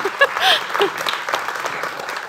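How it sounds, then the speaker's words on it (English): Conference audience applauding after a short talk, a brief burst of clapping with a few voices and laughter mixed in, fading quickly. "you can uh, applaud him"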